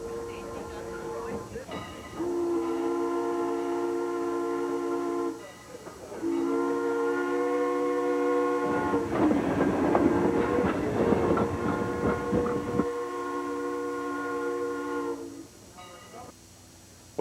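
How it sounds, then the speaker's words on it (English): A steam locomotive pulling tourist cars through rolling farmland sounds several long, harmonic whistle blasts over a low rumble, with a burst of chuffing and rattling noise in the middle. "a steam locomotive chugs leisurely through rolling farmland, pulling tourists 5 miles"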